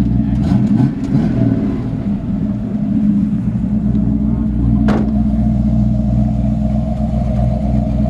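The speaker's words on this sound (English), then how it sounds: "Great sounding engine." A 1936 Chevrolet half-ton truck's engine runs loud and close, a deep steady rumble with a rev swelling early on, plus a brief sharp click partway through.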